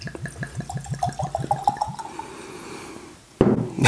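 Cask strength straight rye whiskey poured from a bottle into a glass, a rapid rhythmic glugging for about two seconds, close and clear, then a brief settling and a sharp bump at the end.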